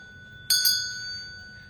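An old brass school bell with a wooden handle and a heavier lead clapper is struck twice in quick succession, ringing bright and metallic and then sustaining a long, slowly fading tone over faint room noise.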